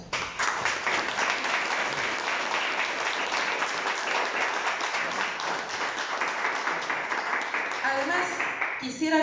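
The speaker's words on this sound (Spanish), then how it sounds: "A todos ustedes y por todos ustedes les pido un gran aplauso" Audience applause at a book launch, a sustained wash of clapping from a crowd, fairly steady, with a voice beginning to speak as it fades at the end.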